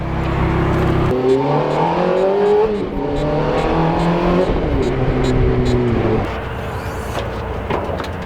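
Ferrari engine revving in race mode, loud, close-up revs rising and falling in several surges, then easing off to a lower idle-like drone near the end.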